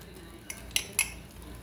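A knife smearing microwave-softened homemade butter onto a chaffle, a few light scraping touches and two or three small clinks of metal against a dish, close and fairly quiet over a low room hum.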